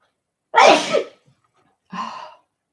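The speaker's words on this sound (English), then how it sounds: "Sorry about all the sneezing, guys." A sharp, close sneeze bursts out, followed after a short pause by a softer second sneeze-like exhalation.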